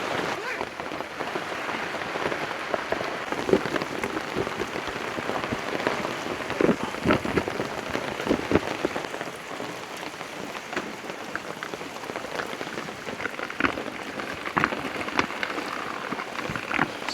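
Heavy rain falls steadily at a Baguio campsite in strong wind, drumming on nearby surfaces with dense patter and scattered sharper drips throughout.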